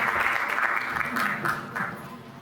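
An audience claps at a Diwali 2022 community celebration, a steady, moderately loud round of applause that holds briefly and then tapers slightly.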